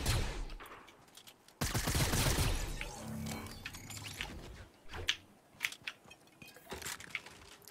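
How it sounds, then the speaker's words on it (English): Scattered gunshots in a Fortnite match, quiet and somewhat distant, with one louder burst early and sharp isolated cracks later amid rustling and mechanical clicks. "I got shots coming across me."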